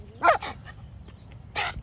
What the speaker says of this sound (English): He still barks at strangers.